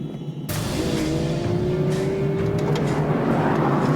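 A V12 sports car with a manual gearbox roars close and loud, its engine note climbing steadily as it accelerates under hard driving, with no talk.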